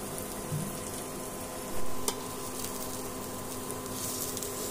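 Paneer cubes frying in a pan, a continuous bright sizzle with a brief louder crackle partway through, close and steady with no talking.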